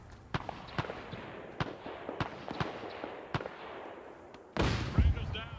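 Distant booms and sharp cracks of artillery fire in ArmA 3 during a historical campaign battle, scattered irregularly over a steady battlefield din, with one closer, louder blast near the end.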